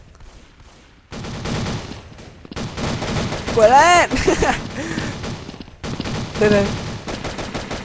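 Automatic fire from Thompson and PP19 submachine guns in the shooter game Truy Kich, rapid bursts of close shots running through most of the stretch under excited commentary and game sounds.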